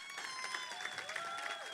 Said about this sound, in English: enjoy the round of applause to thank you for this incredible panel this evening